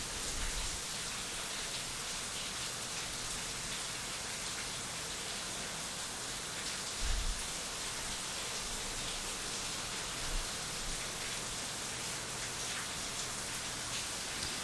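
Heavy rain pours down outdoors as a steady, broadband hiss of countless drops hitting surfaces. It is continuous and even, with a few faint low thumps.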